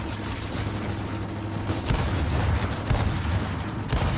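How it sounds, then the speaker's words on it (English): Gunfire in Gears of War 4 team deathmatch, rapid bursts of shots and booms crackling over a continuous battle din, growing denser and louder in the second half. "Incoming fire"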